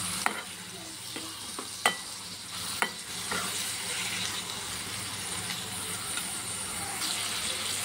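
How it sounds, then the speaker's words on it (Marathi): Chopped tomatoes sauté in hot oil for a Schezwan chutney, giving a steady soft sizzle broken by a few sharp clinks of a spoon stirring against the pan. "आता इथे टोमॅटो घालायचा आहे, तो सुद्धा छान असं परतवून घ्यायचा आहे"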